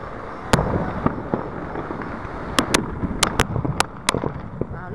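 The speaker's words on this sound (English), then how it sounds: "I have enough firework, Kelly." Independence Day fireworks over Topeka burst in sharp distant cracks and booms, scattered irregularly over a steady crowd and outdoor rumble.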